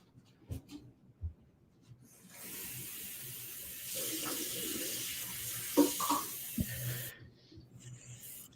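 Water runs steadily from a tap into a bottle for several seconds, a close, even rushing hiss with a few clunks and handling knocks before it and a brief pause near the end.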